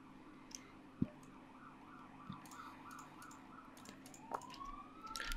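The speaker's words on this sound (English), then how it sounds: "Don't know if you can hear that ambulance or police siren outside," A faint ambulance or police siren wails in the distance outside, rising and falling in a regular pattern, with occasional nearby clicks and knocks over a quiet background.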